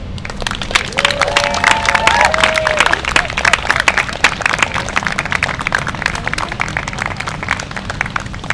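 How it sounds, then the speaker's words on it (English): Crowd applauding and cheering at a higher education rally, sustained dense clapping with a few whoops and shouts rising early on, loud and continuous throughout. "Thank you for one more round of applause"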